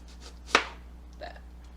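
Knife cutting slices in half lengthwise on a board, one sharp close chop followed by a softer second cut, with faint handling noise around them and no talking.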